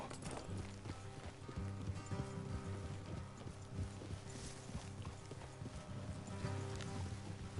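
Horse hooves clip-clop steadily at a close, even pace in Red Dead Redemption 2, with riders on the move over a low musical score and no talking.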